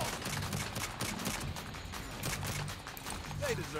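Gunfire rattles in the video game Saints Row 2, quick bursts of rapid shots and clatter at moderate volume over a busy game background, with a voice speaking at times.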